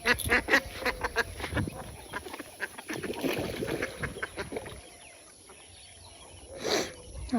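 Ducks quack loudly and repeatedly in a rural yard, a busy chorus of overlapping calls that eases off and returns with a final burst.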